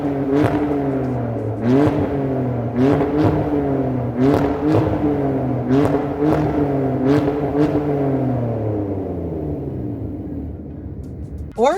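A BMW E46 with its muffler deleted, the exhaust note rising and falling through repeated revs, a raspy, harmonic-rich drone that swells and dips with the throttle, loud and close.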